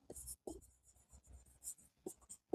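Pen writing by hand on paper for a journal entry in accounting: close, soft scratchy strokes in short bursts with small pauses between them.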